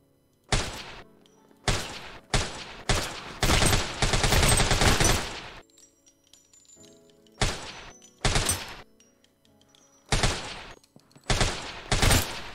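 Gunfire in the video game Deathly Stillness in loud bursts: a string of single shots, then a sustained rapid volley, followed by more scattered sharp shots.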